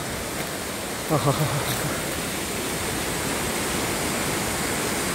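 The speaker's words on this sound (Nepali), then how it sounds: "झरना रहेछ यो ठाउँमा चाहिँ" A waterfall at Dhage Chhahara near Gairi village in Babai, Nepal, pours as a steady, full roar of rushing water with no break; a brief low voice cuts in near the start.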